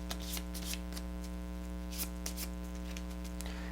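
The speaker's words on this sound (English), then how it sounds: "shuffle it into the event deck" Cards from the Robinson Crusoe board game being shuffled into the event deck: a few quick riffling and sliding bursts over a steady electrical hum, close and quiet.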